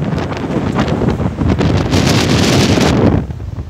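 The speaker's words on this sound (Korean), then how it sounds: "지금 바람이 굉장히 심하거든요" Strong typhoon wind buffets the microphone outdoors near a tiled-roof building, a loud continuous roar with gusting surges that eases near the end.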